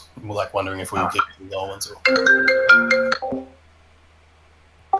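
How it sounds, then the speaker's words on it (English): A phone ringtone chimes for about a second with bright ringing tones, right after a person speaks, and then fades to quiet. "Sorry, that was my phone ring."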